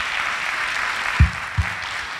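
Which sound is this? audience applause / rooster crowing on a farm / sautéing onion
audience applause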